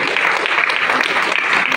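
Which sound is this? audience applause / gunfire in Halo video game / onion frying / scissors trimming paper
audience applause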